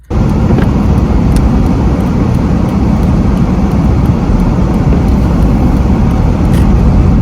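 A Peugeot car drives in the rain, heard from inside as a loud, unbroken roar of road and rain noise that holds steady throughout, with no voices.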